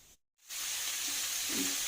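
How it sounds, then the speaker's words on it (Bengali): Fish frying in a pan gives a steady, close hiss of sizzling oil that resumes after a brief silence and keeps going evenly, with a few soft clinks of cookware. "এখন খাবারের জন্য মাছ ভাজি করতেছি"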